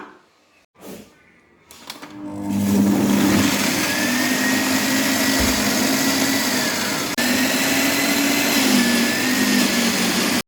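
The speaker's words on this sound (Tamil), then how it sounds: "இப்போ எல்லாம் மிக்சியில் வச்சு நம்ம அரைச்சிடலாம்." An electric mixer grinder grinds rasam ingredients for a Nagercoil-style rasam: after a few clicks and brief starts, the motor kicks in with a loud, close, steady whirring roar that holds for several seconds.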